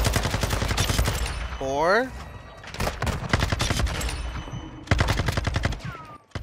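Akimbo Desert Eagle pistols fire in Modern Warfare 2, rapid bursts of loud, close shots with short pauses between volleys, while a voice counts and talks over the gunfire.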